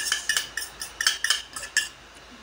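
A spoon mixes radish salad ingredients for ensaladang labanos in a bowl, making a quick series of light, bright clinks and taps, about a dozen sharp hits in an uneven rhythm, close up.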